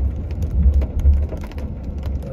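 Steady rain patters against nearby surfaces under a low rumbling hum, with no one speaking.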